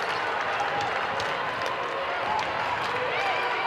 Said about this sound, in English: some clapping from Stady